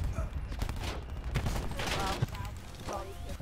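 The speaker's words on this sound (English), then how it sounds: "A little bit of hip fire right there." Hip-fire gunfire with an Argus class in a first-person shooter video game: rapid bursts of shots over game sound, with some speech-like voice mixed in, moderately loud throughout.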